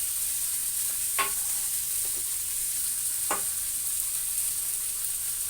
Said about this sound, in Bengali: এই তেলের মধ্যে দিয়ে দিচ্ছি শুকনো লঙ্কা, দিয়ে দিচ্ছি রাঁধুনি ফোড়ন